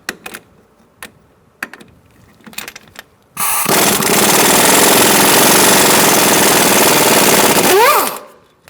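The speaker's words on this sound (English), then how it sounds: "I'm going to use a 17mm socket and take out this pinch bolt." An impact wrench on a 17mm socket removes a strut pinch bolt on a 2004-2009 Mazda 3 front suspension, starting with a few short taps and then a loud sustained hammering burst of about five seconds, close up.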